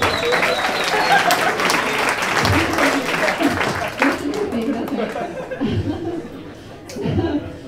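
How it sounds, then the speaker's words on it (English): An audience at a live storytelling event applauds warmly, clapping that thins out over several seconds into scattered chuckles, laughter and chatter. "give yourselves a big round of applause"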